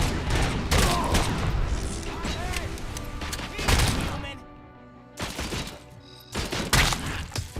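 Bursts of gunfire from RoboCop: Rogue City come in several loud, rapid volleys separated by brief pauses, with mechanical clanks and thuds mixed in.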